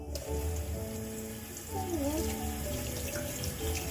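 Kitchen tap water runs in a steady, close stream into a sink while something is rinsed underneath, the flow shifting slightly in pitch as hands move through it, with no talking.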